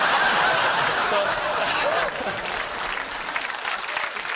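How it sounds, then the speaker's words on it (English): A studio audience for a comedy panel show applauds in a sustained, dense clatter of clapping that gradually eases off, with a little laughter mixed in. "It's a worrying round of applause on the subject of our business."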